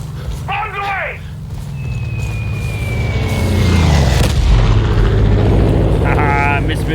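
Explosions from bombs dropped in a video game, a low rumbling boom building and swelling mid-clip over steady game noise, with a falling whistle before it and bursts of voices at the start and end.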